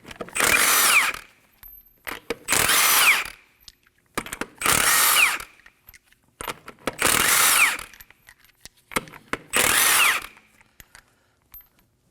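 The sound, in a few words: removing lug nuts with a 21mm socket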